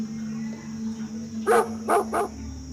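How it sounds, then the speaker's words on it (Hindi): Three sharp dog barks in quick succession over a steady low hum, the first bark followed closely by two more. "कुत्ते भी वहाँ बहुत भौंक रहे हैं।"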